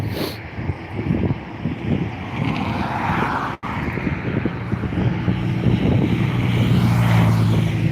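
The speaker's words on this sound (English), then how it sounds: "here we have the United 757 to Newark, already taxiing to the runway and also pushing back" A United Boeing 757 bound for Newark taxis toward the runway at Dublin Airport, a steady, distant engine rumble with wind buffeting the microphone and a brief dropout midway.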